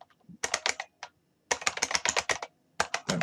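Rapid keystrokes on a computer keyboard while setting up a PHP file for a web lab, coming in close, crisp bursts separated by short pauses, with no voices.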